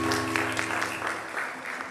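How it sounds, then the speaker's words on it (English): An audience at an American School of Classical Studies at Athens event gives a round of applause, steady moderate clapping lasting a couple of seconds. "let's give a round of applause to our team and colleagues"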